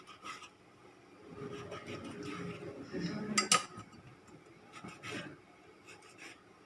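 A knife lightly scores two ripe tomatoes for pizza sauce, giving soft scraping and rubbing strokes on a board with a few sharper clicks of metal, close and quiet.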